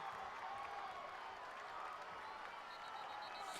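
Spectators at a Lakeside Rams versus Lake Hamilton high school football game keep up a steady roar of cheering and applause, a continuous dense crowd wash that stays level throughout.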